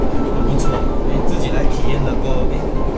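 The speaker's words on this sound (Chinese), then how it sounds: "人生第一次搭马来西亚的火车 ETS" Inside a Malaysian ETS electric train during a ride, a steady broadband rolling rumble fills the cabin, with faint background murmur.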